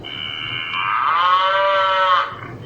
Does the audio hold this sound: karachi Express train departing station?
no